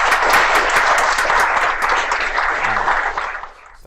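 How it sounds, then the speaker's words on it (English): Sustained applause from an audience at a developer community meetup in Oslo, dense and even for over three seconds before tapering off near the end. "So round of applause for everyone for your organiser."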